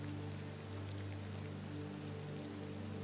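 Rain falls steadily on the streets of Marrakech at night, a soft, even, continuous patter and hiss over a low background hum, with no voices.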